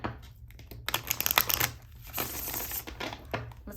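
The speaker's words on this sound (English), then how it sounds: "keep your question in the forefront of your mind while I'm shuffling." A deck of tarot cards is shuffled up close, giving quick crisp riffling and flicking bursts over a few seconds.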